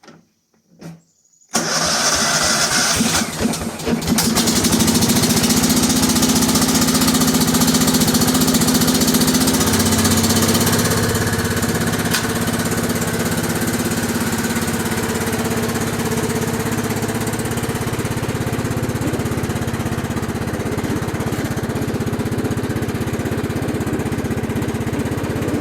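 A small engine with a fresh valve job, cold-started with the choke out: a brief cranking, then it catches and settles into a steady, loud, even idle that runs on smoothly, with no talking.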